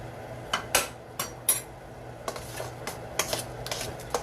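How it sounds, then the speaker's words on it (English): Big spoon mixing ham tetrazzini with spaghetti in a large pan, producing irregular metallic scrapes and clinks against the pan, close and fairly loud, with no talk. "So I'm just going to mix this up really well"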